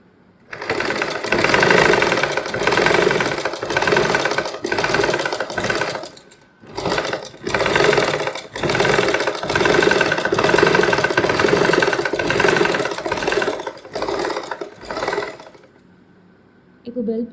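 A sewing machine runs in long steady bursts while stitching fabric for a tailored garment, with brief pauses between runs; a voice speaks intermittently over the whirring motor.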